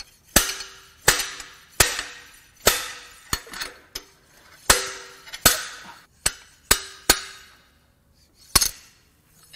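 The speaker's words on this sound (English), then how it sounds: "We're going to use the slide hammer to see if we can pull this out." A slide hammer pulls a part from a Mercedes M156 6.2L V8 engine: about a dozen hard metallic clanks at irregular intervals with short ringing decays and quiet gaps between.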